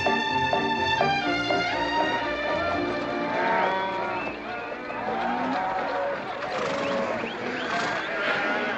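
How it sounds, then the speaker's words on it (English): A herd of cattle moos loudly and continuously in the back of a truck in the 1963 western McLintock, many overlapping low calls blending into a dense, busy lowing chorus. "You got cattle in the back, boss."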